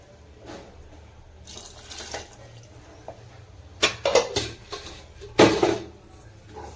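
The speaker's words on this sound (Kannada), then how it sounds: "ಇವಾಗ ನಾನು ಜಾರ್ ತೊಳೆದಿದ್ದು ನೀರು ಹಾಕ್ಕೊಳ್ತೀನಿ" Water splashes into a freshly washed mixer grinder jar in a home kitchen, coming as a few short, fairly close bursts of pouring and sloshing over a quiet background.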